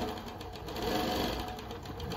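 Kansai 1502 chainstitch sewing machine running continuously through heavy nylon mesh with nylon thread, a steady close mechanical whir without pauses.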